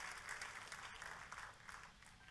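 A church congregation claps during a sermon, a dense, continuous patter of applause that stays faint and distant throughout.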